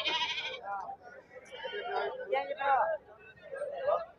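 Rajasthani Sirohi goats bleat at a busy livestock market, with one short nasal bleat standing out near the start and steady chatter and bargaining voices around it.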